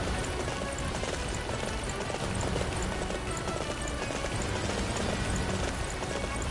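Horse hooves gallop in Dynasty Warriors 9, a steady rapid clatter of clip-clop beats running under a dense wash of game sound effects and music, without pause.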